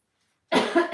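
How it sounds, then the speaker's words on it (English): After a moment of silence, a single sharp, close cough bursts out, with a short second push of breath right after. "my cough is so annoying"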